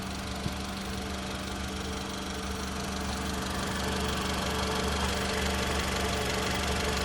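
A Honda Civic's steady, low engine idle hums continuously with a faint rhythmic knock, rising slightly in loudness partway through; no voices.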